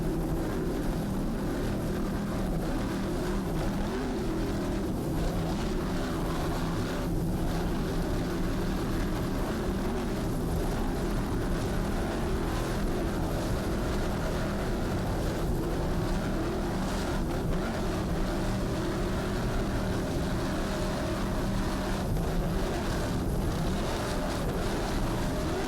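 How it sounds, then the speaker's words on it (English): Offshore racing powerboat engine throttling at the 2003 Brick Offshore Grand Prix in Point Pleasant, New Jersey, a steady loud roaring drone with slight surges in pitch, continuous throughout with no pauses. "Nice throttling there on board Briosky by Jay Muller"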